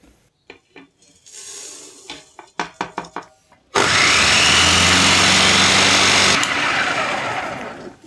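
Electric grinder pulverising roasted spices into fine powder: a few sharp taps and rattles first, then a loud, steady high-pitched whirring roar for several seconds that trails off as the motor winds down.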